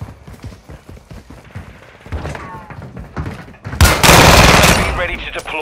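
Gunfire in the Call of Duty: Modern Warfare II video game, a burst of shots swelling into a loud, dense volley near the end, preceded by steadier background action.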